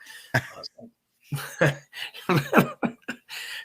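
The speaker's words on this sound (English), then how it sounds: "You have to excuse my cough" A few harsh coughs and throat-clearing bursts, close up, broken by short pauses and rough breathy noises.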